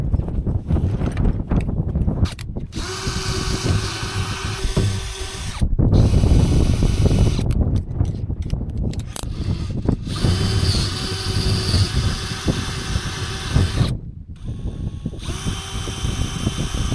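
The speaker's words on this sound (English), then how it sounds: "So we got all the dots I'm going to drill now." Power drill boring holes through a boat dodger in repeated bursts, loud close whining motor runs of several seconds each separated by short pauses.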